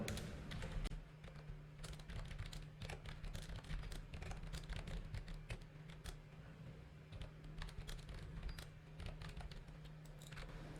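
Quiet, rapid clicking of a computer keyboard as HTML and CSS code is typed, irregular bursts of keystrokes continuing steadily throughout without speech.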